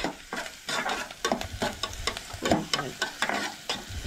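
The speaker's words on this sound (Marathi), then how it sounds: "हे बरें तळसळून घेवंक जाय दोनूय" White onion frying in a pan for a Goan mixed fish curry, with a steady sizzle punctuated by repeated rhythmic scraping stir strokes, close and moderately loud, no talk.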